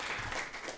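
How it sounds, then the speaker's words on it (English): A short burst of applause from a crowd, brief and fairly steady. "huge round of applause for him to actually help us with this"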